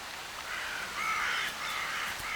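Ravens cawing near a carcass in the Arctic wild, several harsh calls overlapping in a continuous raucous chorus, fairly close and loud against a windy, noisy background.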